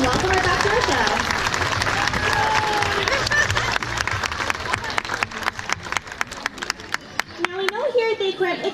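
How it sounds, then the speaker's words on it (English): Audience applause at a sea lion show at an aquarium, a dense crowd of clapping that thins into scattered claps, with some chatter and a voice mixed in. "Let's give her a nice big round of applause and welcome her back to our show."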